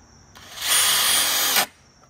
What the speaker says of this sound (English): And then finally, we're just screwing it in.